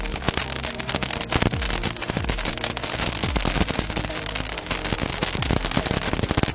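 A handheld toy cracker gun fires a long, dense run of sharp cracks and pops, loud and close, with overlapping crackling bursts throughout and no talk.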